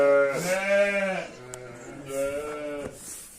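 Sheep and lambs bleat loudly and close by in a farm pen, with a long wavering call followed by a second bleat and a few fainter ones behind it.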